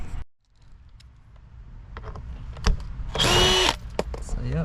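A power drill whirs in a short, loud burst, drilling holes into a Dodge Charger Hellcat Widebody front bumper for a carbon fiber lip, amid clattering workshop noises, with a few clicks and knocks before and after.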